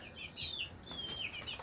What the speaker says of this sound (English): check on the ladies here and see how they're enjoying their chicken terrarium